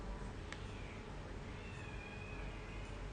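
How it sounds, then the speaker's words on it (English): A cat screeches in the background, a faint, drawn-out wailing meow rising over a steady low rumble of room noise. "That screeching cat in the background?"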